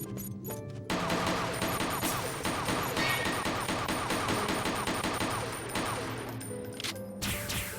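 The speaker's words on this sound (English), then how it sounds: "What if I shoot it with a gun?" Rapid gunfire in the video game Wild Arms 5 as a treasure chest is shot, a dense burst of repeated shots lasting several seconds, loud and close, with game music tones before and after.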